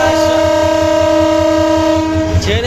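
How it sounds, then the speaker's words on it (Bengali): A train pulls out of Sreepur railway station in Bangladesh, its horn sounding a long, loud, steady tone over a rhythmic clatter of wheels on rails, close by, ending with a brief burst of noise. "আসা ট্রেনটি চলে যাচ্ছে"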